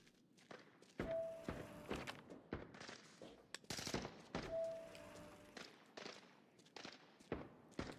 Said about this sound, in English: M4 single fire.